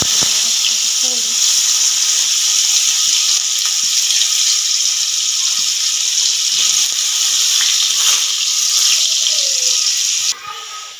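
Potatoes sizzling steadily in hot oil, browning golden, a continuous bright hiss with occasional pops, close by, with faint talk now and then.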